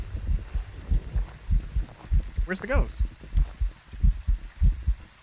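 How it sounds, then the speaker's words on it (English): A steady thumping heartbeat from the ghost-hunting video game Phasmophobia repeats in a regular rhythm throughout, under a player's brief speech. "I hear the heartbeat."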